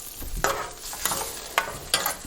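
Clam broth, the reserved clam liquor, heats toward a boil in a pan for clams oreganata, giving a soft steady simmering hiss broken by four sharp clinks or stirring scrapes, close and alone.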